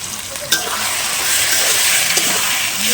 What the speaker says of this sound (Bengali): আদা রসুন পেস্ট দিয়ে দিয়েছে এবং কষানো হচ্ছে, মশলাটা কষাচ্ছে ভালো করে